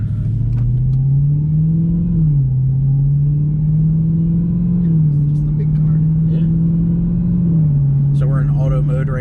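Supercharged Dodge Hellcat Redeye engine pulling hard under throttle from inside the car, a loud steady low drone rising in steps as it shifts through gears, with a short burst of talk near the end.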